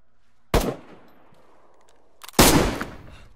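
Two sharp gunshots ring out in the DayZ survival game, the second louder and followed by a rattling tail, spaced about two seconds apart over a quiet background.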